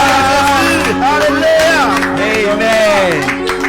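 A church congregation claps along amid loud worship music and singing voices, with occasional whoops rising over the steady, lively clapping.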